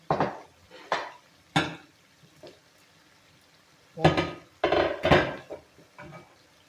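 Fried onion being scraped and poured from a pan into cabbage, heard as a series of close metallic clanks and scrapes of utensil against pan, in bursts separated by quiet pauses.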